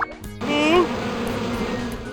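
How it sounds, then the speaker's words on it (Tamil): Cartoon bees buzz in a dense, continuous drone that swells briefly and then holds steady, close and loud, in a comedy animated story about a bee attack. "தேனீக்கள் எல்லாம் திரும்பவும் வருது."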